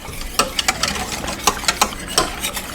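Butterscotch pie filling stirred in a pot, a spoon scraping and tapping in short irregular strokes against the pan, close and moderately quiet with no voices.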